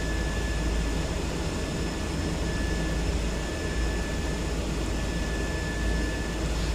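A Cessna Caravan turboprop engine runs steadily while taxiing in Microsoft Flight Simulator 2024, a loud unbroken drone with a low rumble and a thin high whine, with no talk.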